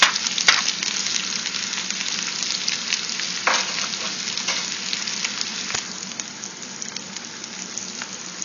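Garlic sizzles steadily in a hot pan, a close, even hiss with occasional sharper spits and crackles, easing slightly toward the end.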